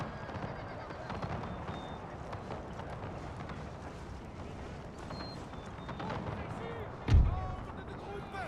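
Musket volleys and artillery fire roll through a Napoleonic video game battle, a dense continuous crackle of distant gunfire with one heavier boom near the end, faint and muffled in the background.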